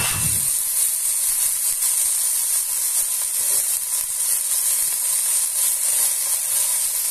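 A steady, broad hiss of marinated beef sizzling in a hot oiled pan runs throughout, fairly loud and constant, with a faint low thump near the start.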